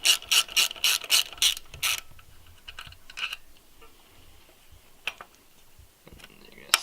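A ratchet clicks rapidly in a tight, loud burst of about eight strokes while breaking free a 6 mm brake arm bolt, followed by quieter scattered tool handling and clinks.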